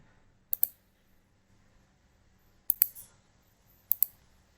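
A computer mouse clicking sharply and close by, in three quick groups of one or two clicks, separated by near silence.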